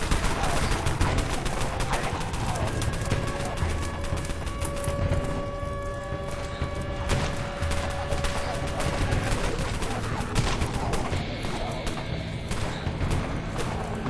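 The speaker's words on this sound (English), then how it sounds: "You can hear everyone's busting out their SMGs right now." Dense SMG gunfire from many players during a zombie invasion in the game Dead Frontier, a continuous rattling barrage with overlapping bursts and thuds, loud and unbroken throughout.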